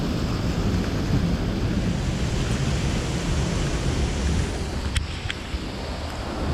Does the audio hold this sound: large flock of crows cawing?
no